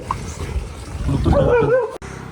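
A dog whimpers and yips with short, high, whiny calls over a low rumble of background noise, ending abruptly.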